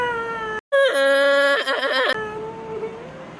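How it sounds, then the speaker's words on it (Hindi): A girl cries out in a short, wavering, high-pitched wail lasting about a second and a half, close and loud, preceded and followed by sustained whimpering tones with a brief break in sound. "तू रो रही है"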